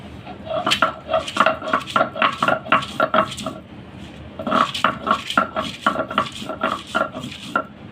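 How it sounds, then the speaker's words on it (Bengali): Dried red chilies being ground by hand for fish fritters: a rapid run of hard knocks and scraping clatter, a short pause, then another quick burst of knocks, close and fairly loud. "শুকনা মরিচ বেটে নিব মাছের মরিচ খোলার জন্য"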